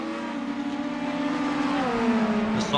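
Race car engines in a sim racing video game during a 24-hour endurance event, a steady droning engine note with a rising pitch sweep near the end, moderately loud with no voices.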